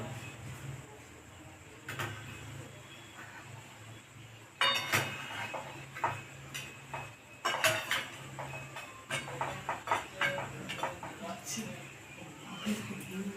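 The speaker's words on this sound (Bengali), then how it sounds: "এবার আমি বাটিগুলোকে ভালোভাবে সাজিয়ে দেব" Steel bowls clink and clatter against each other as they are arranged on a stand inside a pan, a series of irregular, close knocks over a low background hum.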